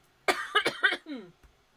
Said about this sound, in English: I will apologize for the coughing.